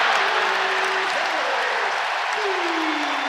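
Purdue's Boilermaker faithful and paint crew at the Ohio State vs Purdue college basketball game erupt in loud, continuous cheering and applause that holds steady throughout.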